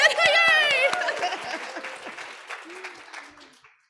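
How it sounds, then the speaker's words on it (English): Applause from an audience at a speech pathology hooding and pinning ceremony for graduates, with a voice speaking over the first moments; the clapping thins out to scattered claps and fades to silence. "Let's give them a round of applause, though."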